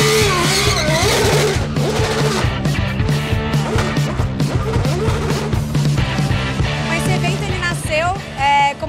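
Formula 1 race cars accelerate at a street event in Porto Alegre's Gasômetro, with loud high-pitched engine whine rising and falling and tire squeal, mixed with a thumping music track throughout.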